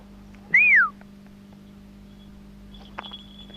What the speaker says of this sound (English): I whistled because the whistle is going to be part of his life.